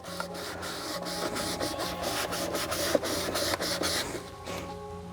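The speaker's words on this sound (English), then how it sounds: "We're going to go around and clean this groove as best we can." The groove of an aluminum headlight housing is scrubbed clean with quick, repeated close rubbing strokes, a steady scratchy sound with small bumps and no talking.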